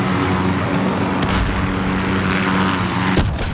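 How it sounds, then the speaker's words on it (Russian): Military aircraft in Call of Duty: Modern Warfare roar overhead in a loud, continuous engine drone, broken by heavy sharp bursts of combat noise partway through and again near the end. "Алекс, самолеты готовы."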